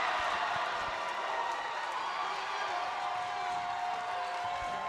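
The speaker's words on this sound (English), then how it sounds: "The crowd loving it." A high-school basketball crowd roars after a dunk at a varsity Senior Night game, a broad, steady wash of cheering and scattered clapping that holds at an even level throughout.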